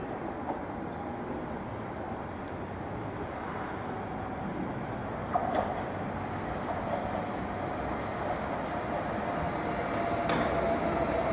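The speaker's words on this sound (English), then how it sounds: "the 1839 service to Norwich, which will soon be arriving into platform 3." A Greater Anglia Class 745 electric train running into a station platform, a steady loud rumble of rolling wheels with faint squeals and a high electrical tone, growing slightly louder toward the end, no voices.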